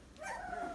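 Young puppies give a short, high whimpering yip, close and brief, with no one speaking over it.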